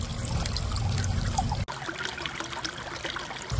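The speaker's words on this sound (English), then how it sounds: "When the fizzing is done, your disinfectant is ready." A water disinfectant device fizzes while treating a one-liter setting, a continuous bubbling hiss that cuts off abruptly with a click, then faint liquid trickling continues alone.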